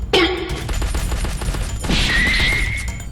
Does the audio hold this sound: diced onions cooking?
no